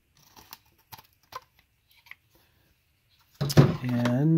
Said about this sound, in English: then all I'll do after it's glued down is just come in with some scissors